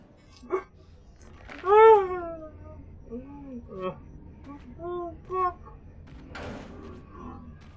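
Cats in the video game Little Nightmares meow several times, one loud drawn-out cry followed by shorter, fainter mews spread out over a quiet background.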